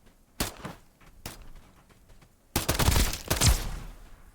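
Video game gunfire: a few sharp isolated shots, then a dense burst of rapid overlapping fire, loud and close with no talk.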